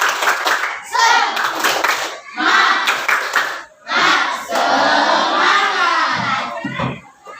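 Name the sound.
class rhythmic spirit clapping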